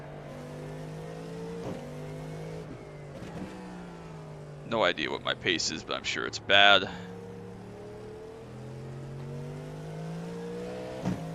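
An IMSA race car in the iRacing video game at Daytona drones steadily on track, with a few sharp revving bursts midway, while someone talks over the engine.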